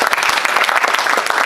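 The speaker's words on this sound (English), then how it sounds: "everybody wants to give Blue 1647 and Emil a round of applause" An audience at an inaugural community event claps for Blue 1647 and a speaker named Emil; brisk, lively applause with distinct individual hand claps standing out in a short burst.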